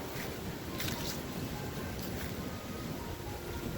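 Strong wind at a cemetery blows in a constant rushing, buffeting roar across the microphone, with a few brief gusty swells and no voices.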